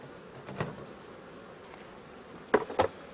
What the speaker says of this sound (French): Il y a encore pas mal d'abeilles dedans